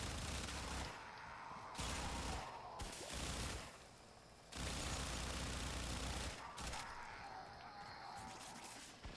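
A weapon firing in the video game Warframe, rapid loud bursts in several separate strings broken by short pauses, fairly faint overall.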